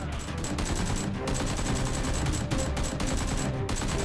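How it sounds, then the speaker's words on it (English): Rapid bursts of Nerf blaster fire during a mock shootout between a masked hero and robbers, dense clattering shots running continuously and loudly throughout with no talking. "She quickly fired back."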